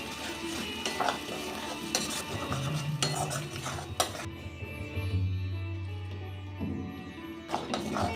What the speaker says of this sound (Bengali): এবার পুরো মশলাটা আর একটু কষিয়ে নেব। খুব ভালো করে ভাজা হয়ে গেছে, তেল ছেড়ে দিয়েছে।